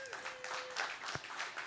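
An audience clapping at a talk, a brief, fairly faint spell of scattered applause with a steady tone running under the start.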